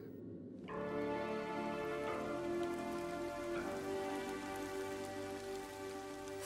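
Heavy rain downpour starts abruptly after a brief quiet moment, then pours steadily as a dense, even hiss of drops hitting surfaces, fairly close and constant throughout.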